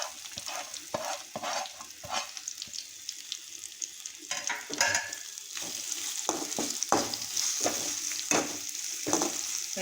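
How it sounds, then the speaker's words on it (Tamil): Finely chopped okra, added to softened onions, sautés in hot oil with a constant crackling sizzle, broken by repeated close scraping strokes of a spatula stirring the pan. "வெண்டைக்காய் நல்லா கொஞ்சம் எண்ணெயில் வதக்கிக்கலாம்."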